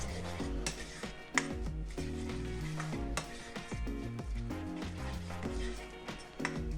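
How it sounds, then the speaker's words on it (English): Shallots sizzle in freshly melted, uncoloured butter over medium heat as they are stirred around the pan, a steady close frying crackle with occasional scrapes and no talk. "Go in with your shallots. Mix them around."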